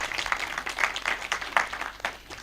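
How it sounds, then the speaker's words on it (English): Scattered, moderately quiet clapping from an audience at a World Saving Day event honouring the Deputy Governor, coming in uneven bursts over a couple of seconds. "Can we give him another round of applause?"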